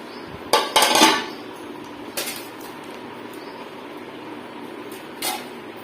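Utensils clink and scrape against a plate as rice is served, a few sharp metallic knocks early and sparser taps afterward in a quiet room.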